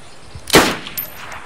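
A single sharp gunshot in the video game DayZ cracks once, bright and close, with a brief ring-off, followed by faint clicks in an otherwise quiet background.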